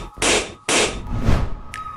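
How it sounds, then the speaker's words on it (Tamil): Balloons being popped at a school in a Tamil web series, with two sharp bursts in quick succession followed by a duller thump and a short high squeak, close and loud. "வா எல்லா பலூனையும் உடைப்போம்."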